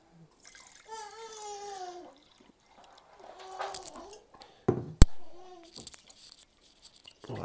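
Filtered water emptied from and poured back into a jar of sprouts, with gurgling splashes and a sharp knock of glass, while a person speaks in between.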